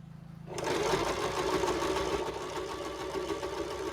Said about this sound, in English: I'm sewing fast because I'd like it to be straight